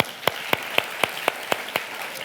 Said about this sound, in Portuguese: Uma salva de palmas para Carlinha, por favor.